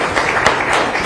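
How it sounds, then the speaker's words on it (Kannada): Applause from a gathered crowd at an outdoor ground event in Keragodu, Mandya, a steady dense wash of clapping held at an even level throughout with no voices rising above it. "ನಿಮ್ಗೆಲ್ಲ ಒಂದು ಚಪ್ಪಾಳೆ"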